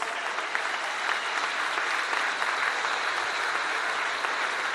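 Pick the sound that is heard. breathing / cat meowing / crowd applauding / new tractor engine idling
crowd applauding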